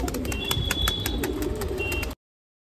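A pigeon close by makes soft throaty coos and rhythmic flutters, a few seconds of bird sounds with no talking before the sound cuts off abruptly.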